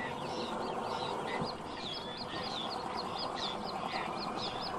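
A dense colony of birds on wooded and sandy river islands calls continuously in a busy, overlapping chatter of chirps and squawks at moderate distance, with steady outdoor ambience underneath and no talking.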